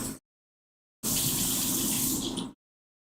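Tap water runs in a sink for about a second and a half, a steady close gush as a small bunch of cilantro is rinsed. A short burst comes before it, with silence between.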